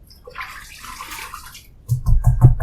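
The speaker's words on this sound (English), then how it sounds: "I'm gonna wet my face just a little bit" Water splashed onto the face before shaving, a soft running trickle followed by a brief burst of close, wet splashing.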